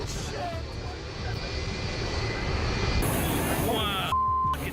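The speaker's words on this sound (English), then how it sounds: "An airplane is preparing to take off, but it starts to experience problems." An airplane engine roars steadily during a troubled takeoff. The noise swells slightly, then a short electronic beep tone sounds near the end.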